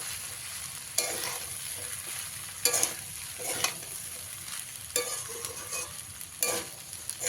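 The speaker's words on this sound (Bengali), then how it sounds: "ভিজিয়ে রাখা সাবুগুলো সাবুগুলো দিয়ে খুব ভালো করে মিশিয়ে নিতে হবে" Soaked sago pearls are mixed into a sizzling sago pulao in a pan, with spoon strokes scraping in irregular bursts over steady soft frying, nearby and fairly quiet, without speech.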